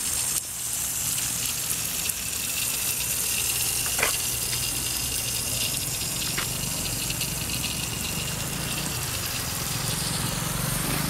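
Drinking water gushes steadily from a tap in central Rolândia, a constant, fairly loud rush with no pauses and no voices.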